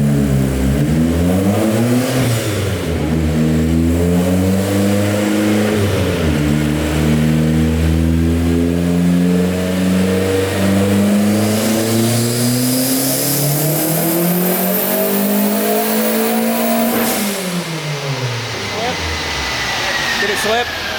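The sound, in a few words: Mazda Miata engine revving on E85 during a run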